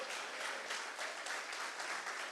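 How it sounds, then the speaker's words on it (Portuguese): A church congregation applauds during a Portuguese-language celebration service, a steady, even wash of many hands clapping at moderate distance, sustained without break for the whole stretch. "Aplauda ao Senhor pelo dia que Ele encontrou você."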